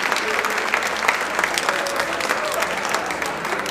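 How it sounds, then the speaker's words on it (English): An audience at a school marimba event applauding the teachers, a busy continuous patter of many hands clapping at close range with a low murmur of crowd beneath. "would you give a round of applause to the teachers as a way of saying thank you for teaching our students"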